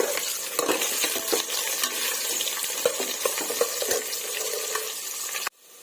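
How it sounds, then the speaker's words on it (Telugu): Chopped onions fry in a pan with a steady sizzle while a utensil stirs them in repeated close scrapes, and the sound cuts off abruptly near the end. "ఇవి మనం బాగా ఫ్రై చేసుకుందామండి"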